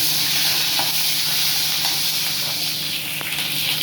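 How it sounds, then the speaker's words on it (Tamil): Fennel seeds and green chilies fry in hot oil for a broad bean curry, giving a steady, dense sizzle with faint stirring scrapes, close and continuous with no talk. "சோம்பு பொரிச்சு பச்சை மிளகா 2 போட்டுக்கலாம்"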